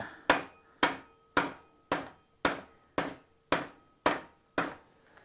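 Steady, evenly spaced metallic hammer strikes on CB350 motorcycle engine cases, about ten in a row, each ringing briefly before the next blow; close up with no talking.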